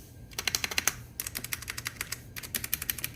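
Fingers typing on a mechanical keyboard, rapid bursts of crisp clacking keystrokes in quick flurries separated by short pauses, close and clear with no voice.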